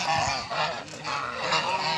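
Geese at a goose farm honk loudly and repeatedly at dusk, several close, overlapping calls in an uneven run.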